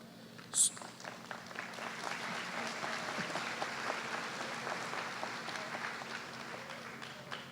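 Graduation ceremony crowd at a high school applauding an honored guest, sustained broad clapping from a large audience heard at a distance, steady throughout after a brief sharp click near the start.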